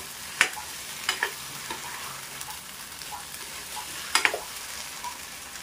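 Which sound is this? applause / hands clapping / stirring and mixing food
stirring and mixing food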